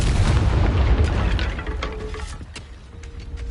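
A Confringo explosive fire spell bursts in Hogwarts Legacy, a loud booming blast that rumbles heavily at first and then decays into crackling debris and scattered pops.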